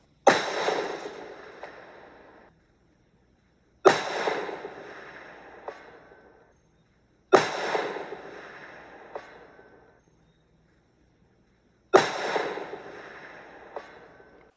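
Four loud rifle shots ring out evenly spaced, each a sharp crack followed by a long rolling echo that fades into silence, fired at targets 350 and 500 yards away through a Leupold scope.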